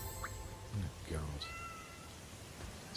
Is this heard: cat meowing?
yes